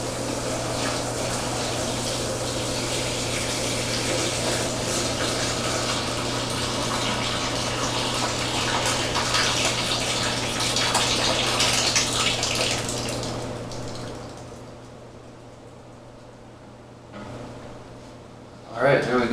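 Homebrewed honey porter wort pours through a strainer into a fermenter with a steady, splashing gush of liquid that runs for about thirteen seconds, then thins out and fades.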